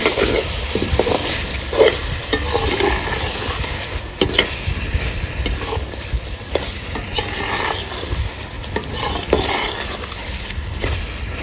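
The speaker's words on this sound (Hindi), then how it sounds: "जो हमने अंदर घी डाला था उस घी के अंदर इसकी ना भुनाई अच्छी तरह हो जाएगी" Boondi roasting in ghee is stirred continuously in a pan, producing a close, busy sizzle with repeated scraping and knocking strokes against the metal throughout, loud and without talk.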